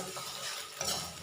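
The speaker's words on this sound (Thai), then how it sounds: "เดี๋ยวทอดไปสักพักเดี๋ยวก็สุกแล้ว ไข่เจียวเริ่มสุกแล้วเนาะ" A Thai-style omelette fries in a pan, giving a soft, steady crackling sizzle with light scraping, quiet and close, with no voices.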